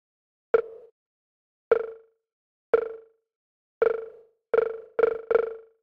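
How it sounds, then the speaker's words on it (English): A fast, unsynced grain delay effect on a short tonal hit: seven sharp plucks, each trailing a brief smeared echo tail, spaced unevenly and bunching closer together toward the end. "And so you can hear there's like that fast delay that you heard"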